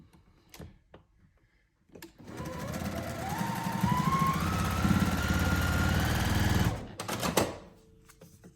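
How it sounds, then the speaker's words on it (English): Close up, a sewing machine stitches fabric pieces together in one steady run of about five seconds, its needle chattering rapidly and its motor pitch climbing, with a few soft handling clicks before and after. "and sew it together."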